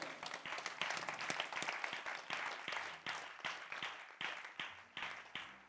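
A church congregation applauds during a French-language sermon, rhythmic communal clapping with a steady beat that carries on for several seconds over faint background voices.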